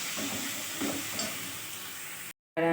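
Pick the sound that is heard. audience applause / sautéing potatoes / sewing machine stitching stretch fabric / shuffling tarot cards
sautéing potatoes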